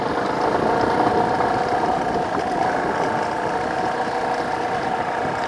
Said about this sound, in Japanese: こう空冷単気筒エンジンが粘って安定的にぐいぐい進めてくれる感じですね